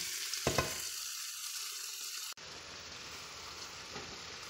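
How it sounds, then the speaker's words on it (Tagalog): Toppings cooking with tomato paste bubble and sizzle steadily in the pan, a close, continuous frying hiss that briefly cuts out and resumes slightly quieter. "Ayan, kumukulo na siya."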